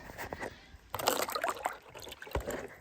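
Water is poured from a watering can onto radishes and lettuce inside a cold greenhouse in freezing weather, with soft splashing and trickling in uneven bursts, close and fairly quiet.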